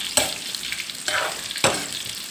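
Thai fish cakes made from fish sizzle and crackle in hot frying oil, with three louder bursts of spattering rising over a steady hiss.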